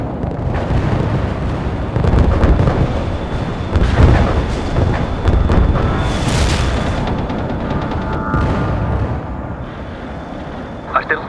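Medium artillery barrage in the war game World in Conflict: repeated heavy booms and rumbling blasts roll through the scene with crackling debris, while voices talk over the bombardment.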